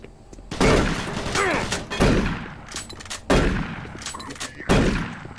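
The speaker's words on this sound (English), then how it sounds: "Damn, cool shotgun" Four heavy shotgun blasts from DOOM 3, each a loud booming shot followed by a pump or reload clatter, spaced about a second and a half apart.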